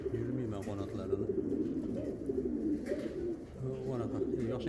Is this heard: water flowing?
no